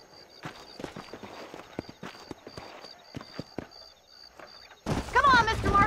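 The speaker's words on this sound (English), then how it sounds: "These are fine horses." In the Red Dead Redemption video game, horse hooves clip-clop in a loose, uneven rhythm at moderate distance, then a louder burst of noise cuts in near the end.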